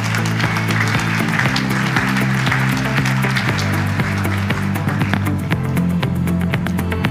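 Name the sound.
gala audience applause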